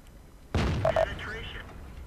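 A sudden loud cannon blast from a Bat Chatillon 25t medium tank in the World of Tanks video game, followed by a decaying rumble and brief metallic game tones.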